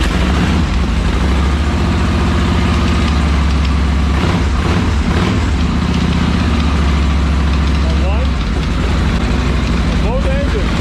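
A twin-engine Harley-Davidson motorcycle idles close by with a loud, deep, steady rumble that holds for the whole stretch, while people talk over it.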